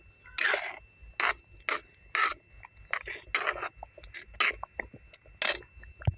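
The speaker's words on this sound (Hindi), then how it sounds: "इस सूजी को हम लगातार चलाते रहेंगे" Semolina dough is stirred steadily in a kadai over a medium flame, giving repeated rough scraping and rasping strokes in an uneven rhythm. Close and moderately loud, with no voices.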